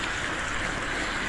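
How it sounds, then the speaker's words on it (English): Water running down a street, a steady broadband rush like a stream or gutter flow, continuous and fairly close with no talk over it. "There's a lot of water running down this street."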